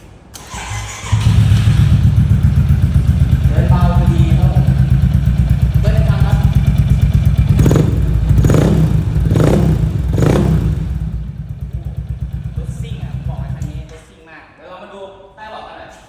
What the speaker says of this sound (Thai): เดี๋ยวเรามาฟังเสียงเครื่องกันหน่อยครับ